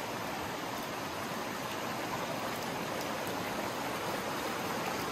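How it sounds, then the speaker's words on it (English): Steady rushing water while panning gold-bearing material on a hiking-trail prospecting trip, a constant broadband wash of flowing stream noise with no breaks. "let's see if I can pan this real quick"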